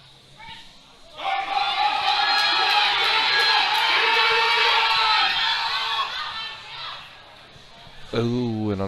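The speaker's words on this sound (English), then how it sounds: "Crowd is getting behind Kim here as well." A loud indoor crowd cheers and shouts encouragement for a lifter at a masters powerlifting world championship, building after a quiet start and holding steady, with an announcer's voice over it.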